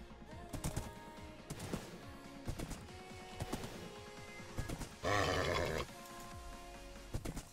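Minecraft horse sounds in the video game: a burst of whinnying near the middle among short clip-clop and grunt-like effects, with scattered game noises around it and no speech.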